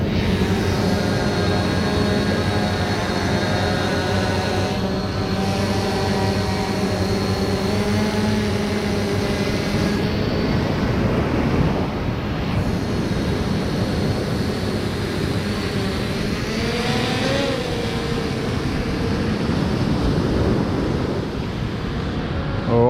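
A drone carrying a fishing bait rig flies over a beach, its steady whining motor hum running continuously under loud wind buffeting and the wash of surf.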